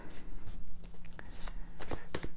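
A deck of cards being shuffled by hand, a series of quick crisp riffling bursts and soft flutters close by, irregular in rhythm with brief gaps between them.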